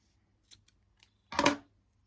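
Scissors snipping through crochet yarn while making a Tunisian crochet flower coaster: a few faint clicks of the blades opening, then one louder, close cut lasting about half a second, in a quiet room.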